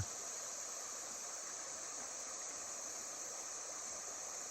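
Steady rushing water, a continuous even hiss of a flowing creek under a railroad bridge on the Chillicothe bike trail, with no voices, constant in level throughout.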